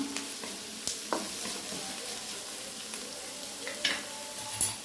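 Soybean and potato pieces sautéing with curry leaves in a pan, a steady soft sizzle broken by occasional scrapes and knocks of a spoon stirring, close and moderately loud with no talk.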